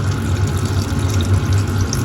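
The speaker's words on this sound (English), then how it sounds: "So what I'm going to do now is just add a little bit of water, right? Hot water." Hot water poured into a cast iron pot of Rajasthani mutton cooking with corn, a steady close rush of liquid holding level for about two seconds with no voices.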